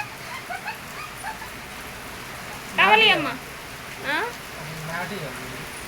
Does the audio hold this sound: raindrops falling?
yes